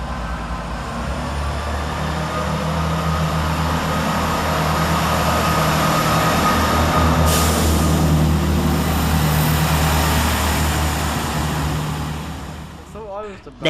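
Great Western Railway class 165 diesel unit idling at a station, a loud steady engine drone with low throbbing tones sustained for most of the time, then easing off near the end, with a brief voice underneath.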